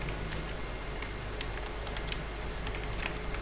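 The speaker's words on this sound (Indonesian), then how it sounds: "Kemudian kita ketikkan yang seperti ini." Fast typing on a computer keyboard, a dense run of light key clicks over a low steady hum, close and fairly quiet, with no talking.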